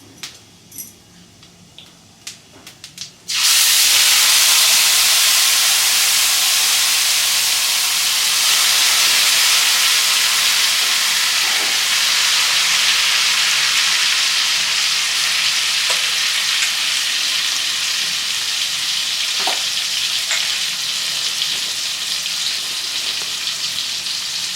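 Spinach paste hits hot oil with whole cumin in a pan, bursting into a sudden loud, dense hiss after a few quiet seconds, then a sustained, close sizzle with occasional stirring knocks.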